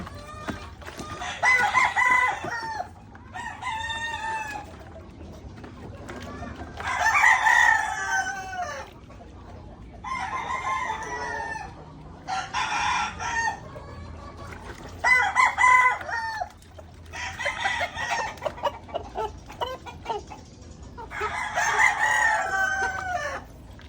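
Pet chickens at home, being given a bath, cluck and crow in repeated loud bursts roughly every couple of seconds, close and steady over a longer stretch.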